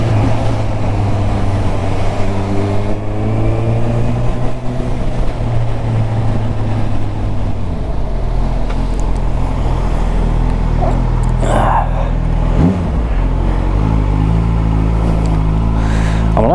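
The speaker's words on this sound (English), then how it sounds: "I'm liking that exhaust, but it is a little bit aggressive." A Honda CB1000R motorcycle with an aggressive aftermarket exhaust revs and rumbles close by, with rising and falling engine pitch and a sharp blip near the end, over continuous wind-like noise.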